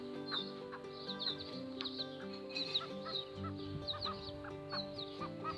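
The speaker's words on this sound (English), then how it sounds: "I just thought I'd take a video and show you the wonderful chicks that are here" Chickens and chicks cluck and cheep in a henhouse along a pilgrimage trail, with steady overlapping calls close by, a rooster-like low tone beneath them, and some higher chirps.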